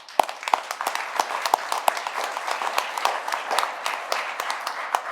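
A crowd gives a round of applause at a West Virginia tourism event with the governor, steady mid-level clapping lasting several seconds with sharp individual claps standing out.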